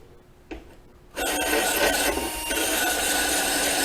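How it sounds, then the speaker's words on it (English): A hand file rasps against metal on a clamped mower part in a workshop, a sustained steady scraping that begins about a second in after a brief knock and continues loud to the end. "You can also do it with a file if it doesn't want to work."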